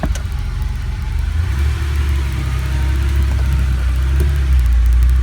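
A 1987 Porsche 911 Carrera Cabriolet pulls away, its engine a steady low rumble that builds gradually as it accelerates, close and continuous with no talk.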